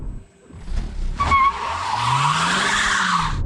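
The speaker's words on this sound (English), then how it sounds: "it spins the wheels really easily because it has that instant torque of the electric motor" Kia Sportage Hybrid with a 1.6 turbo engine spinning its wheels as it pulls away on a wet road, tires squealing loudly and steadily over a rising engine note after a brief thump, close by.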